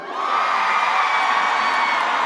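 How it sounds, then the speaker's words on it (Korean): A concert crowd at a singer's opening set, the front-section audience cheering on cue: a loud, sustained roar of whoops and shouts that swells quickly and holds steady throughout. "자, 우리 이쪽 앞에 계신 분들만 함성 한번 들어볼까요?"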